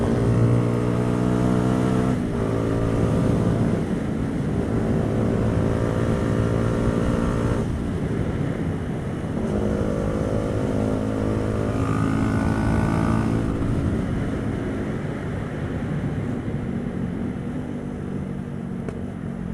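A Yamaha YZF R125 motorcycle rides through the countryside, its engine droning steadily with gear changes and pitch rising and falling, loud and close with wind.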